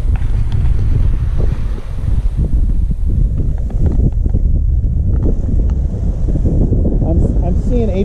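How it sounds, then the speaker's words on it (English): Strong wind roaring across the microphone while sailing a boat, loud and constant throughout, with faint water and rigging sounds underneath. "we've got a lot of wind"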